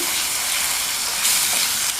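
Steady hissing sizzle of masala with coriander powder frying in a hot pan, close up, with faint stirring scrapes and no talk.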